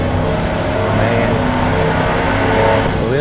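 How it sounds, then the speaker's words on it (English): A supercharged 2019 Roush F-150 pickup with Roush exhaust revving, a loud, dense, continuous engine roar that swells slightly toward the end, close by and with no talk. "Roush exhaust makes it sound way beyond what the regular F-150 sounds like"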